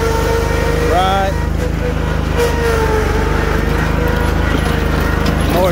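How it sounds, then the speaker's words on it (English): Snapper Z Rider Pro Cruiser commercial zero-turn riding mower with a 61-inch deck, driving at ground speed: a steady, close engine drone runs throughout, with someone talking over it. "Mower's got pretty good ground speed on it."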